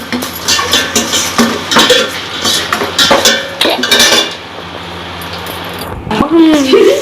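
Chicken fried rice being stirred in a pan, with a spatula scraping and clinking against the metal in an uneven rhythm, close and fairly loud under a person talking.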